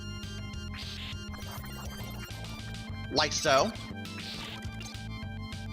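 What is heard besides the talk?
rushing water current changing direction, video game Super Castlevania IV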